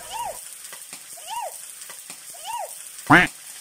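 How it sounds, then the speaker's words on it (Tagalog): Fish fillet frying in hot oil in a home kitchen, a close hiss and crackle running under several repeated chirping tones, ending with a sharp loud pop. "At sinimula na nga magprito ng daddy"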